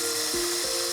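An electric sander with a fine, well-worn grit band works on a plastic lock pick handle, a steady high whine with two brief dips in pitch as the load shifts, close and continuous.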